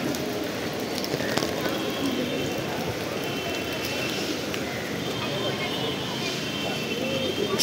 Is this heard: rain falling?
yes